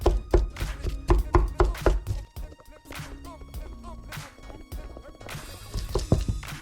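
Sweet potato being mashed in a bowl with a wooden spoon and a fork: a run of loud, irregular thumps and scrapes, fast and close at first, then a quieter stretch of softer scraping before the heavy strokes return.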